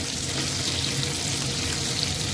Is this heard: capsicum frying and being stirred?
yes